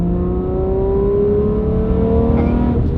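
An Aston Martin Vanquish engine revs as the automatic transmission simulates downshifts, a steady rising drone with shifting tones and a blip near the end, close and alone.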